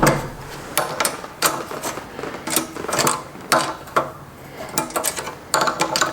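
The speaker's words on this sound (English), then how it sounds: "I'm using a 10mm wrench because I don't have the right size wrench for this thing." A 10mm wrench works a fastener on a Craftsman tiller, giving irregular metallic clicks and clanks in short bursts, moderately close and alone with no speech.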